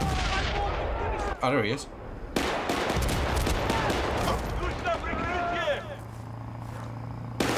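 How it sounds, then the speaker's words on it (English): Bursts of rapid gunfire crack through a Battlefield: Bad Company firefight under a dense din of combat noise, while someone talks over the shots. "Who else is shooting me?"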